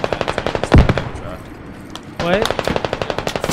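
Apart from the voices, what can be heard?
gunfire in video game Squad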